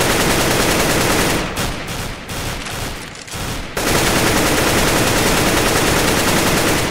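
FAMAS rifle fire in CS:GO rattles out in loud, rapid continuous bursts, with a short break of separate shots in the middle before the sustained automatic firing resumes.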